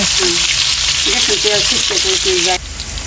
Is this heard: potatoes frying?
yes